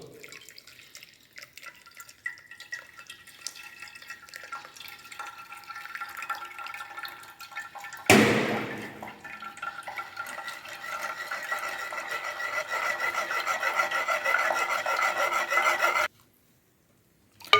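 Tomato puree for soup is strained through a sieve into a pan, giving a steady wet rubbing and dripping. After a sharp scrape midway it grows louder and more continuous, then stops abruptly.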